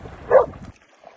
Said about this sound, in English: the dog's just bailed this little goat up